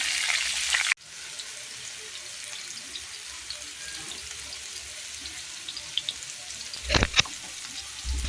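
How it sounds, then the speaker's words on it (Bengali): Potato and pumpkin pieces fry in hot oil with a faint, even sizzle, opening with a brief louder burst and broken near the end by a couple of sharp clatters. "এই পর্যায়ে আলু কুমড়ো তেলের মধ্যে দিয়ে ভালো করে ভেজে নেব।"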